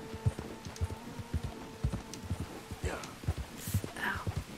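A horse's hooves clip-clop steadily in Red Dead Redemption 2, a close, regular four-beat walking rhythm with a low hum and brief voice sounds around it.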